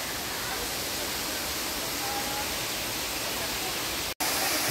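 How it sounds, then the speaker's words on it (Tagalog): Pangpang Habog waterfall near Antequera roars as a steady, loud, broadband rush of falling water, unbroken except for a brief dropout near the end. "So lapitan natin yung falls guys."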